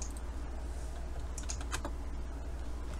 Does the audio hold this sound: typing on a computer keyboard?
yes